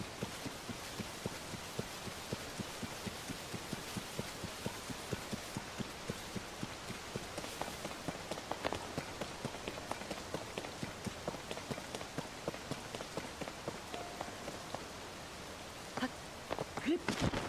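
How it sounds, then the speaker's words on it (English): Rain falls in a Zelda game, a steady patter of drops with rhythmic, footstep-like taps running underneath, fairly faint, with a voice speaking briefly over it. "It's raining here."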